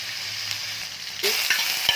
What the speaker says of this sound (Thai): ขั้นแรกเราก็จะคั่วหมูกับน้ำมันก่อนนะคะ ให้น้ำมันหายไปก่อน